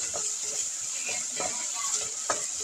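Sausage and salted potato pieces fry in a pan with a soft, steady sizzle, broken by a few stirring scrapes and clatters close up.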